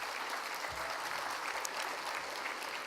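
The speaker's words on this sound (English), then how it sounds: "Can we give an applause for all of the three groups?" Sustained applause from a conference audience at a debate session, a steady dense wash of many hands clapping without pause for the whole stretch.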